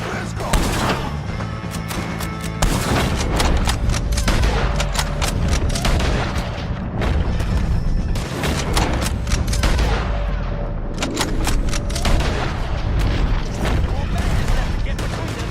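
Sustained gunfire aimed at O'Driscoll gang members in the Red Dead Redemption video game, dense volleys of shots cracking continuously over a loud battle mix with shouting voices throughout.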